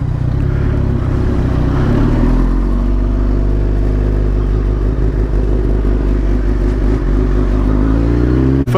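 A 2011 Kawasaki ZX10R sport motorcycle riding on the road, its engine a loud, steady drone close by with a shift in pitch partway through as it changes speed.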